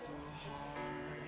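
A steady super-strong hard hairspray aerosol hisses continuously at close range, a soft even rush of air that stays constant before fading slightly at the end.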